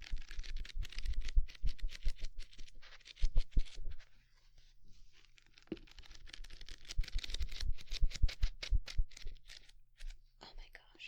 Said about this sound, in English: let's do some page flipping or page turning now.